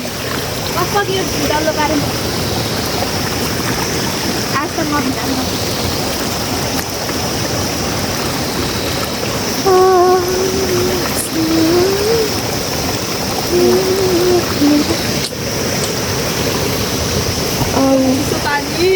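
A mountain stream rushes in a steady broad roar close by, with people talking over it at intervals.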